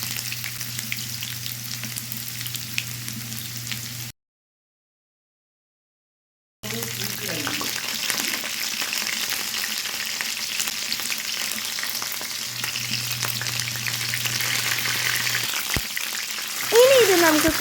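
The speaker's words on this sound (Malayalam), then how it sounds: "ഇനി ഇത് നമുക്ക് കുറച്ചു നേരം വഴറ്റി കൊടുക്കാം." Garlic, ginger, green chilies and curry leaves sauté in a pan after mustard seeds have popped, giving a steady, fairly loud sizzle. It breaks off briefly into silence, then resumes with a faint voice and a low hum underneath.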